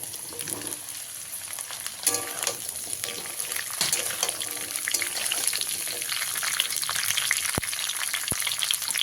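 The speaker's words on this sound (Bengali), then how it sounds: "মিনিমাম চার পাঁচ মিনিট ধরে সবজিটা ভেজে নিতে হবে" Mixed vegetables including beans and cauliflower fry steadily in a pan for a restaurant-style vegetarian mixed veg dish, a continuous close crackling sizzle with a few stirring scrapes and two sharp clicks near the end.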